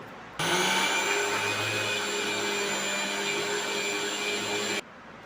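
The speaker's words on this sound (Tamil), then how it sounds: "இப்போ மிக்சி ஜாரில் சுகரை போட்டு இதை நைஸாக பொடி பண்ணிக்கலாம்" A mixer grinder jar powders sugar for puffed rice balls: a loud, steady motor whir starts abruptly, runs evenly for about four seconds, then cuts off, with no talking.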